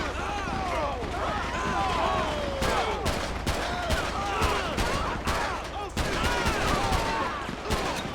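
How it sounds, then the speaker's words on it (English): Scattered gunfire in the police video game LSPDFR, a 2011 Police Interceptor on scene, with sharp shots and bursts cracking irregularly amid engine hum, chirping sirens and a talking voice. "A lot of scattered gunshots"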